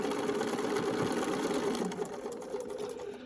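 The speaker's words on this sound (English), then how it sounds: "I start stitching at the edge of the block, back stitch where those lines intersect, and then stitch forward on the line" A sewing machine stitches a foundation paper pieced quilt block, its rapid mechanical whirr running continuously and close, then easing slightly and becoming more uneven near the end, with no voices.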